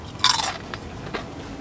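Crunchy bite into a fried pork steak sandwich from a Japanese convenience store, one loud crisp crunch followed by two softer crackly chews, close up with no talking.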